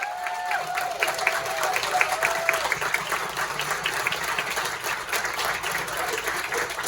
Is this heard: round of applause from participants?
yes